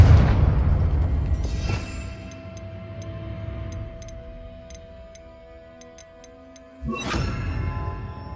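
A Confringo blasting spell in Hogwarts Legacy bursts with a loud blast, a ticking rhythm follows as the echo fades, and then a second explosive burst erupts near the end.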